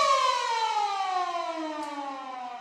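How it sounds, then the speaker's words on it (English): Full-time siren at a country rugby league match, a long loud steady wail sounding alone and slowly sliding lower in pitch. "And there's the siren."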